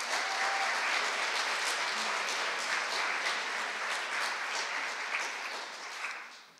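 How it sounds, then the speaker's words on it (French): At the final of a public speaking contest, an audience applauds a speaker being introduced: a full, sustained roar of many clapping hands, even and loud throughout, thinning slightly at the very end. "Applaudissements pour Monsieur Stéphane André."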